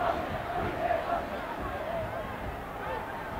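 A 1982 rugby league match between the Kangaroos and Hull FC: a stadium crowd of supporters cheers in a steady, continuous roar, with a commentator talking over it.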